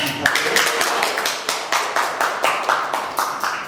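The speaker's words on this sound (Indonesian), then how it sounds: "Nih, tepuk tangan dulu dong" A few people clapping in a small studio during an Indonesian school podcast: sharp, close, fairly regular claps in a loose rhythm, with a little voice underneath.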